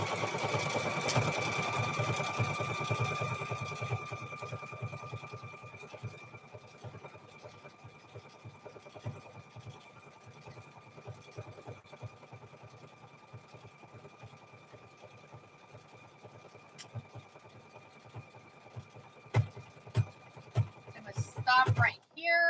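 A sewing machine stitching a denim jeans quilt hums steadily and close, loudest at the start and then easing off. The run is broken by clicks and knocks near the end, and a voice speaks at times over the machine.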